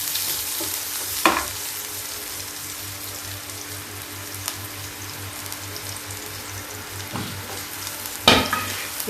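Onions fry in a pan with a steady soft crackling sizzle, broken by a few sharp spoon clinks and scrapes from stirring, close and without talking.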